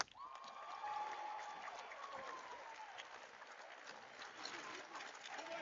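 Audience applause fills a high school hall of fame awards ceremony, a steady wash of clapping that holds for the whole stretch, with a whistle or cheer rising briefly near the start and some crowd voices mixed in.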